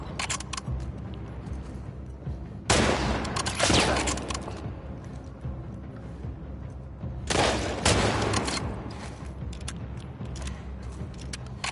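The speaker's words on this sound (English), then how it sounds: "Who's shooting out here?" Gunfire bursts in the video game The Last of Us Part II, two loud volleys of shots several seconds apart over a low ambient background.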